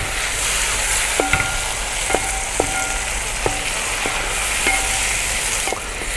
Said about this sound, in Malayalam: നമുക്ക് നേരത്തെ നമ്മൾ ഒരു 10 പച്ചമുളക് അരിഞ്ഞ് വെച്ചിട്ടുണ്ടായിരുന്നു, അത് ഇട്ട് കൊടുക്കുക ഇതിലേക്ക്